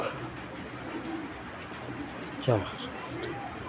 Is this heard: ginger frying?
no